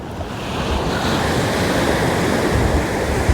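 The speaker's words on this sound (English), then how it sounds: "Decent waves, nothing high," Ocean waves break along a shore during a hike, forming a loud, continuous wash of surf with some wind noise against the microphone and no speech.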